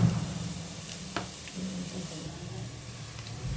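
Asafoetida tempering in hot oil gives a faint, steady sizzle and hiss, with one brief clink partway through and a low background hum.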